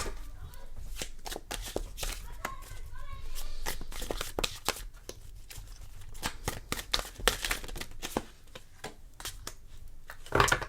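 A deck of tarot cards is shuffled close up. The cards make quick, crisp riffling and snapping bursts in an irregular rhythm, with soft handling sounds between them.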